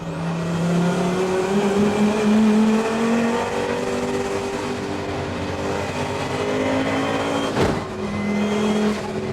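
A 500hp Volvo race car at Bathurst downshifts into a corner, its loud engine drone sliding in pitch with a brief sharp burst near the end, heard close from on board.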